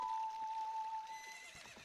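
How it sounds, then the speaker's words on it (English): A horse in The Legend of Zelda: Ocarina of Time gives a short whinny alongside a sustained high tone, followed by faint hoof-like taps, all fairly quiet and with no speech. "I need my horse, because we need to head over to Gerudo Valley."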